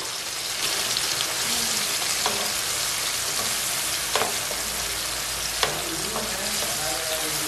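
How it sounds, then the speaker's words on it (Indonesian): Spice paste with bay leaves and lime leaves sizzles steadily in hot oil for a dish of salted jambal roti fish, a constant frying hiss with occasional scrapes and stirring knocks of a utensil in the pan. "Kita tumis dulu sampai mateng ya bumbunya"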